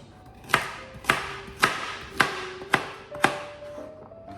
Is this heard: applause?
no